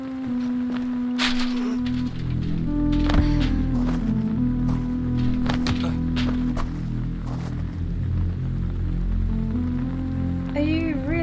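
Rain falls steadily in a dramatised outdoor scene, a constant wash of drops on surfaces, with a low tonal drone and sustained musical tones running underneath throughout.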